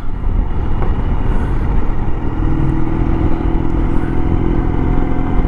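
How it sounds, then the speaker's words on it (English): A Ural Retro sidecar motorcycle on a ride gives a loud, continuous engine drone with low rumbling and road rattle, steady throughout, heard up close with no talk. "when you take a right-hand corner with a sidecar on the right, you have a chance of lifting the sidecar up"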